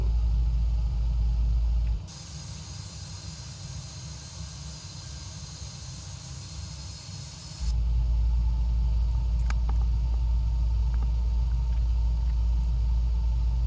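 Landing gear lowers in a flight simulator airliner approach, making a sustained low rumble with a hissing airflow layer that lasts several seconds and then stops, followed by a return to the steady engine drone.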